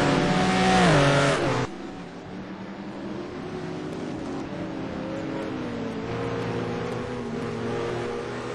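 Race cars compete in the STC Black Cup at Anderstorp, a loud engine roaring past with a falling pitch, then a sustained drone of several cars racing at a distance.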